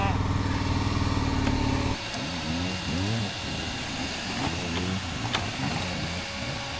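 A dirt bike engine revs and strains while climbing a steep rocky hill, with a steady harmonic drone that breaks into repeated rising and falling throttle surges. Someone talks over it throughout.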